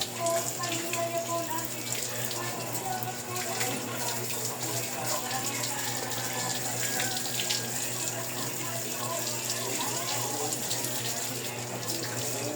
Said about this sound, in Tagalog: Patay mo na yung tubig.